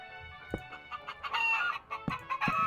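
Chickens in the Minecraft video game, the fancy hatchable breeds, clucking and crowing in short repeated bursts over a busy, music-like game soundtrack, with no talking.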